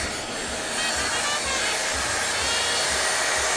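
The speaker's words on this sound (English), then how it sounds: "Now I got back in the stairs. Vacuuming the stairs." A vacuum cleaner works a set of stairs with a loud, close, steady rushing whine, and faint regular thumps underneath as it moves from step to step.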